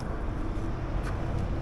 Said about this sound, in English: sorry if it's a little bit noisy, the cars are going by